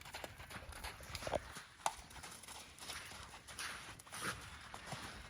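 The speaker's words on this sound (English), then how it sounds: "All right, you can go to canter when you're ready." Horse cantering in a dressage arena during a riding lesson, with soft rhythmic hoof thuds and clip-clop on arena footing, steady and moderately near, without talk.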